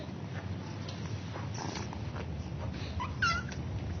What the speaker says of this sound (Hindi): बिल्ली के बच्चे क्यूट है ना?